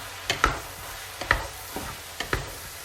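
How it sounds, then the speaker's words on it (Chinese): Spatula scrapes and knocks against a wok as diced eggplant and minced meat are stir-fried, three paired strokes in a steady rhythm over a soft background sizzle. "咱们将切好的茄子丁倒进去。 然后继续翻炒"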